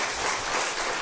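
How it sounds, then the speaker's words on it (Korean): A church congregation applauding in praise during a blessing service, thick continuous clapping that stays loud and close throughout a brief moment. "하나님께 영광 드리는 박수 올려드리고요"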